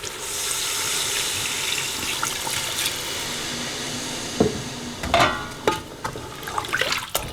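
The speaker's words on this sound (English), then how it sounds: "we're going to use between 6 to 7 cups of water" Six to seven cups of water poured into a pot of lamb nihari gravy, a steady rushing flow followed by splashes and clatter near the end, without speech.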